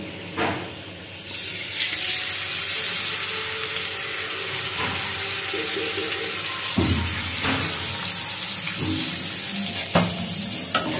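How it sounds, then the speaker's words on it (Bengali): Onion paste, garlic paste, cumin, turmeric and salt sautéing in a pan, a steady close sizzle with running water, stirring scrapes and a few knocks layered over it. "এবার আমি ভালো করে মশলাটা একটু কষিয়ে নিব"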